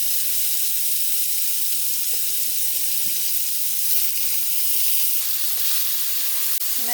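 A Beyond Burger patty frying in a pan, giving a steady close sizzle of broad hissing crackle that holds evenly throughout with a few faint clicks and no talking.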